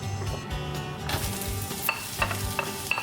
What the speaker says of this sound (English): take our olive oil and our onion, and we're going to brown it on a medium-high heat